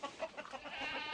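Farm chickens give short, close clucks and soft squawks in a quick burst, the calls overlapping slightly as the flock crowds around.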